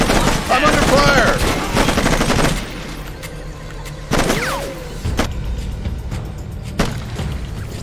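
Gunfire in the video game Raven Squad, rapid bursts of automatic fire and shots over an engine rumble, with ricochet-like whines and voices calling out between the bursts.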